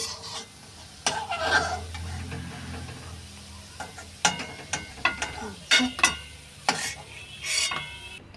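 Homemade sweet dough frying in hot oil and being stirred, with a steady sizzle under intermittent close scraping and clinking strokes of the utensil.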